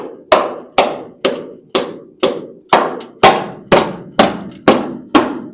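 A tool pokes and taps the rusty metal of a car wheel well in eleven sharp, evenly spaced metallic knocks, each ringing briefly before decaying, loud and close with no talk.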